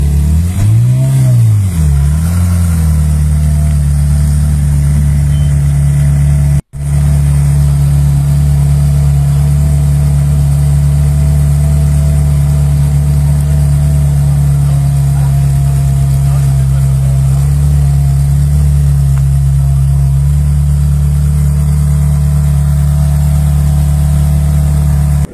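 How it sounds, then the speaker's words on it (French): Steady idling engine of a classic or exotic car arriving at a Clermont-Ferrand rally, a loud, close low drone with a brief dip in revs early on and no break after. "il y a quelques voitures d'exception qui sont arrivées"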